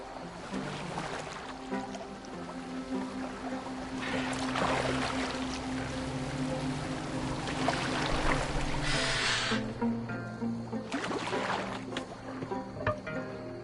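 Boat moving on water in Assassin's Creed Valhalla, with continuous splashing and rushing water, swells of spray and creaking beneath steady game music and ambience.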